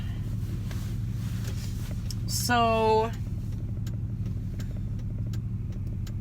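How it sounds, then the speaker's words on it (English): Cars pass on a road in a steady engine rumble, with one sharp rising-and-falling tone sweeping through partway, while someone speaks briefly. "there's a lot of cars coming here"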